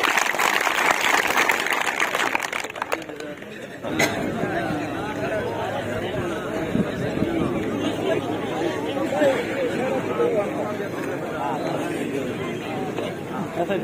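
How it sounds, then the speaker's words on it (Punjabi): A crowd at an outdoor fair gathering bursts into loud applause for about four seconds. Busy crowd chatter and murmuring voices then carry on for the rest of the clip. "ਤਾੜੀ ਮਾਰੋ"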